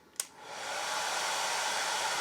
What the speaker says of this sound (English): It'll run a hairdryer